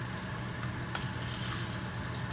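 Food sizzles on low heat in a pan where it is sticking, a steady, moderately quiet frying hiss with faint stirring, no talk.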